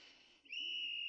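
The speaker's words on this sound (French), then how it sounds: "L'arbitre siffla." Referee's whistle at an ice hockey game: one sharp, steady whistle blast rising out of faint background noise and holding for over half a second.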